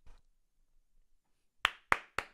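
Three sharp, loud hand claps ring out in a steady rhythm after a near-silent pause, with a brief bit of faint sound at the very start.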